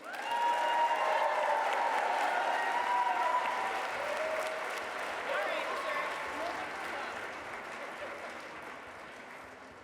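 A forum audience at the 2024 Preservation Forward main program applauds in a long, dense wave of clapping with scattered cheers, loud at first and gradually tapering over ten seconds.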